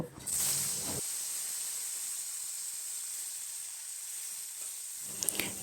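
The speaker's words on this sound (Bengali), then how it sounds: "এবার ওই কড়াইয়ে একটু সর্ষের তেল দিয়ে কেটে রাখা টমেটোগুলোকে দিয়ে দেব" Chopped tomatoes drop into hot mustard oil in a wok: a loud burst of sizzle, then a steady faint hiss, and a second sharp flare of sizzling at the end.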